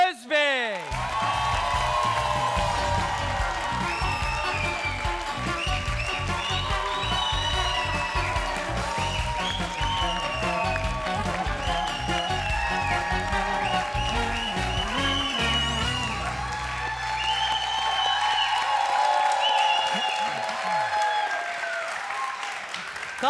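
Studio audience applauding steadily as a contestant walks on for a New Year's special of a TV family game show, with music and voices running underneath the sustained clapping.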